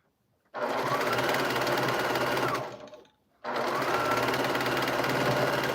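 A Singer 401 sewing machine stitches while quilting, running in two loud, steady bursts of rapid mechanical whirring with a brief pause between them.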